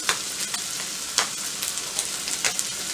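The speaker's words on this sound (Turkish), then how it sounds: "Şimdi midyelerimi arkadaşlar güzelce tavaya eşit bir şekilde yaydırıyorum." Mussels fry in melted butter in a pan, a close, steady sizzle and crackle with small spatters and scrapes running throughout without any voices.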